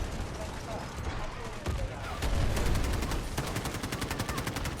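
Rapid automatic gunfire in the mobile shooter Delta Force Mobile, with dense, steady bursts that grow louder and more continuous toward the end, under excited talking.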